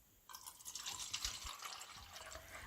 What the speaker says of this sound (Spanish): Voy a añadir el agua Kangen ahora y luego voy a hacer una prueba visual.